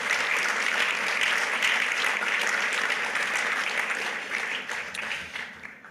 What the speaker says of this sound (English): let's give a round of applause to our sponsors tonight